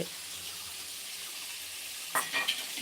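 Food fries in a pan, giving a steady, close hiss of sizzling oil, with a few brief clinks near the end.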